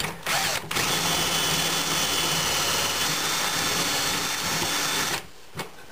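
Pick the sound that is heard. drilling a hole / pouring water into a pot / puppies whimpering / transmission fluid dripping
drilling a hole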